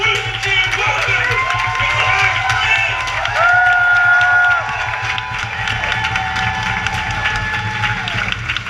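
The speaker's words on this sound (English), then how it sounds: "Will you please whoop and cheer and welcome?" Live audience at a stage show cheering, whooping and clapping loudly and continuously, with shouts and a raised roar midway, while a presenter's voice carries over the crowd.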